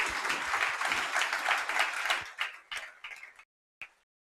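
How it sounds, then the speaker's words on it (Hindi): An audience claps loudly and steadily in thanks to a guest speaker, an RAS 2024 rank holder, at a motivational talk in a coaching class. The applause fades out over a few seconds and ends with a last stray clap. "एक बार जोरदार तालियां मैम के लिए।"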